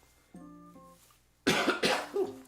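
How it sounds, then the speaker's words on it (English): Several harsh coughs burst out in quick succession, loud and close, during a hot wings challenge while cooking, after a quieter steady tone at the start. "Cough a little bit."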